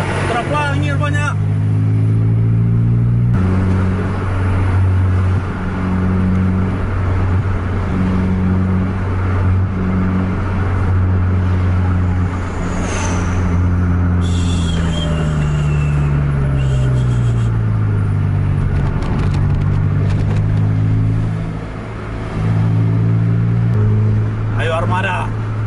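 Buses and cars on an Indonesian road rev their engines in a long, loud, continuous drone, with engine tones rising and falling as they compete, while people talk excitedly throughout.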